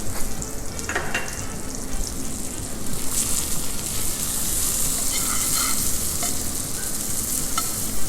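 Chopped shallots and garlic fry in melted butter with a continuous close sizzle and light stirring scrapes, at a fairly even level throughout.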